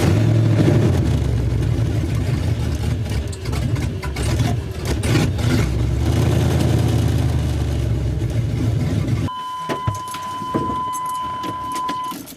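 A 5.3 LS-swapped Pontiac Firebird engine runs steadily after a restart, a loud continuous mechanical drone with low rumble, then the tone thins and a steady whine and clicks take over near the end.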